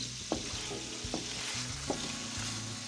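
Butter-fried shrimp sizzle steadily in a pan, the constant hiss punctuated by four evenly spaced spatula scrapes and knocks, close and moderately loud.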